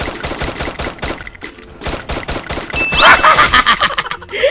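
Rapid gunshots ring out in Garena Free Fire, a fast rhythmic burst of sharp cracks close and loud, followed by a denser flurry of shots and impacts near the end.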